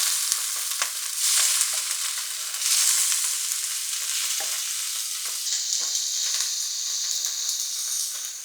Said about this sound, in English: A couple tablespoons of oil in the pan, nice and hot.